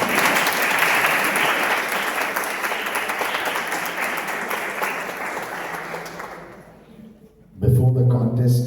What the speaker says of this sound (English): I can only see a few clapping.